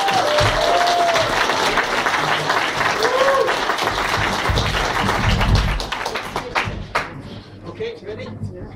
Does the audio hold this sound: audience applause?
yes